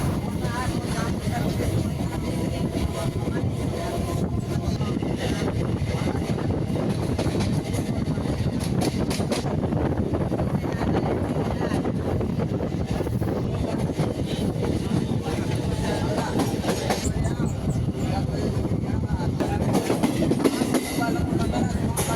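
Gummidipoondi to Chennai Central EMU local train running steadily, with continuous loud rumble, wheel clatter and wind noise throughout, and voices faintly under it.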